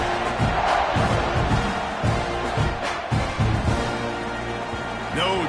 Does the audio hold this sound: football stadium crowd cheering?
yes